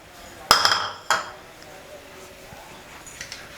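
A handful of cashews drops into a small kadai of hot ghee with two sharp clinking impacts close by, followed by a quiet, low sizzle.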